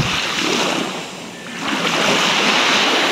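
Sea waves at the shore of a resort at Sulvic, Narvacan, Ilocos Sur, a broad steady wash of surf that briefly softens and then swells again, with wind noise on the microphone.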